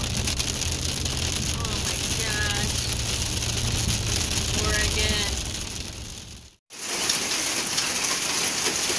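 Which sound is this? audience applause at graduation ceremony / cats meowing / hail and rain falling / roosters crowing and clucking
hail and rain falling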